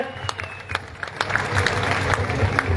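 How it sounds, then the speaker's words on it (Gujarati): Crowd clapping to welcome fasting farmers at a farmers' protest in Jetpar, Morbi, building from scattered claps to sustained applause, with voices mixed in. "આ સ્વાગત કરે છે તો જોરદાર તાળીઓથી આપણે એને વધાવીએ."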